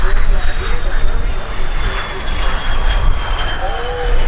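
A CF-18 Hornet fighter jet lands on the runway at an air show in Gatineau, its loud engine roar filling the scene continuously with broadband rumble and a steady whine, close and dominant.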